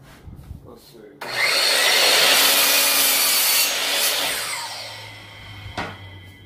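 A Bauer 10-inch dual-bevel sliding compound miter saw spins up and cuts through wood at a steep bevel, giving a loud, sustained whining rasp that fades as the blade winds down, with faint sounds of handling before and after.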